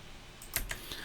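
A few quiet keystrokes tap on a computer keyboard while subtitle text is entered, soft brief clicks over a faint room hiss.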